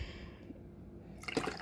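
Cold brew coffee is poured from a pitcher into a glass with ice, a short splashing pour that bursts in suddenly near the end after a quiet pause, close and clear.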